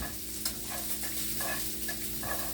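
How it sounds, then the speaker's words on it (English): Green beans and bacon get stirred in a hot pan, with a close scraping rustle and soft sizzle that come in short repeated strokes. "Go ahead and give your green beans another mix here, especially now that the bacon's in there."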